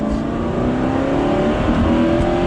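A supercharged Aston Martin V8 Vantage engine pulls hard in second gear, giving a loud, steady, rising roar that fills the cabin without a break.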